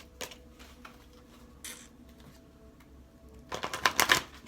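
Tarot cards are riffled and tapped, a few soft flicks early on, then a quick flurry of crisp shuffling clatter near the end.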